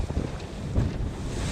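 Wind buffets a JPK 1010 sailboat at sea during the Fastnet race off Start Point, blowing about 10 to 12 knots: a steady, close, low rumbling roar of gusts over the microphone with the hiss of water beneath, and no voices.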